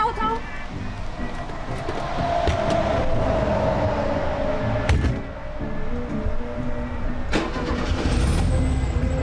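A car engine cranks and starts, then runs with a steady rumble while people talk nearby, a few sharp knocks and bangs cutting in along the way.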